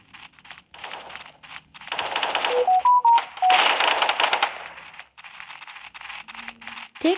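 Rapid bursts of automatic gunfire crackle loudly and close in the mobile shooter Special Forces Group 2, with short single shots, brief electronic beeps and quiet gaps between the volleys.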